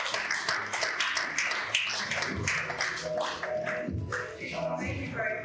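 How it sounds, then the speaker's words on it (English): Scattered applause from an audience at a business talk on SMEs, uneven claps rising and thinning with some louder individual hits, fairly close and steady throughout. "A round of applause for her one time"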